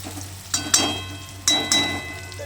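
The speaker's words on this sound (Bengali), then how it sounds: "এই যে ফোড়ন দেওয়া হয়েছে এখানে ভাজা ভাজা হোক পেঁয়াজ পেঁয়াজগুলো" Onions sizzle and crackle in hot oil with tempering spices for chicken stew, with a few sharp spitting pops breaking through a steady low frying hiss.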